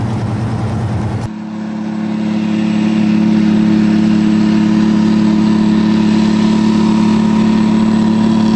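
A Pacific logging truck engine rumbles steadily at close range, a deep constant drone with a hum that builds slightly after a brief change in tone near the start.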